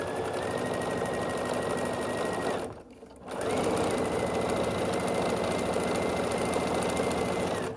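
Home sewing machine stitching two rows of three 5-inch quilt squares together for a St. Patrick's Day placemat, a steady rapid whirring hum with a brief pause in the middle before it runs on again, close and alone.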